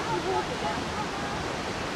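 An alpine waterfall pours in a steady, broadband rush with no breaks, close and fairly loud throughout, with no voices over the falling water.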